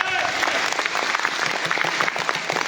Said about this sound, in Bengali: আপলাইনের জন্য একটু করতালি চাচ্ছি